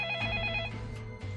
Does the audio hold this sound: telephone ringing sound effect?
yes